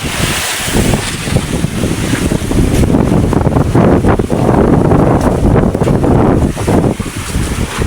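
Strong wind buffets the microphone around a fishing boat on rough sea, a loud continuous rushing roar with surging waves and spray, no voices.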